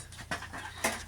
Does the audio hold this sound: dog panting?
yes